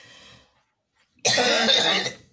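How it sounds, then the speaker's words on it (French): A single burst of harsh coughing, close and loud, after a brief faint sound and a moment of silence. "Pourquoi je tousse un peu, je sais pas."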